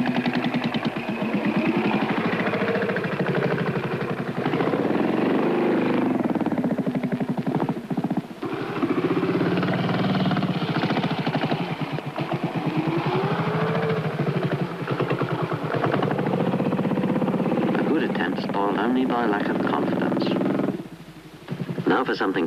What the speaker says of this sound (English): listen to Gordon's throttle control